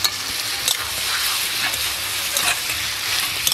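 Bottle gourd sizzles and fries steadily in a pan while being stirred, a close, continuous hiss with small crackles and scraping stirs throughout.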